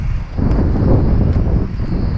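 Heavy low rumbling wind on a stormy day buffeting the microphone, loud and continuous with gusty swells.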